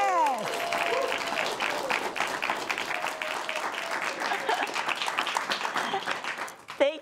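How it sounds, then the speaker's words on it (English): An audience at a cabaret show claps in a steady wash of applause with scattered cheers and voices, tapering toward the end before a brief sharp sound closes it. "Let's give her a round of applause."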